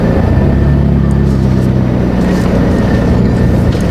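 A McLaren 570S pulls away from a stop, its engine droning in a loud, steady low rumble heard from inside the cabin with no break in the sound.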